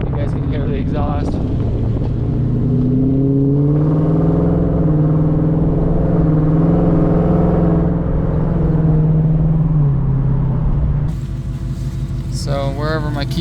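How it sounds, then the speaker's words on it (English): A Coyote-swapped 1990 Ford Fox body car idles and revs, its engine and exhaust giving a deep, steady rumble that swells and settles, close and loud, with brief talking at the start and end. "Let's see if you guys can hear the exhaust."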